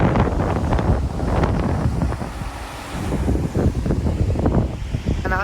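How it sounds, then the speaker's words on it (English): Strong wind buffets the microphone continuously during a walk in Nassau, Bahamas, with rumbling gusts rising and falling throughout. "I'm out here in the windy wind."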